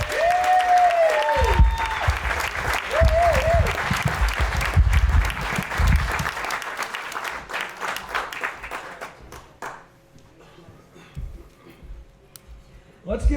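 An audience claps for Robert at a storytelling event, a fairly loud burst of clapping under some talk and whistle-like tones, which fades out partway through and leaves a quieter stretch.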